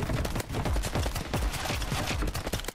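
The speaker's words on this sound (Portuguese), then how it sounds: "Tem tiro!" Rapid bursts of gunfire crackle in quick succession, dense and sharp, like automatic weapons firing continuously in the battle royale game Mini Royale.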